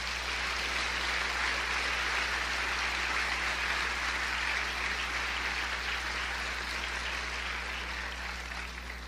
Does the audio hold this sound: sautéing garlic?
no